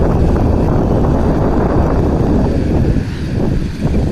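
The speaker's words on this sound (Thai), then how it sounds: "ลมก็แรงนะครับวันนี้" Strong wind roars outdoors at a Thai rice farm, a steady loud broadband buffeting against the microphone that eases slightly near the end, with no voices.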